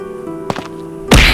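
A Minecraft zombie being hit: a few short, blunt thwacks with a punchy impact at the end, loud and close over a steady game background hum.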